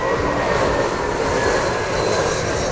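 A jet plane comes in fast on approach near LAX, a loud, broad, continuous roar of engine noise filling the whole clip without any voices.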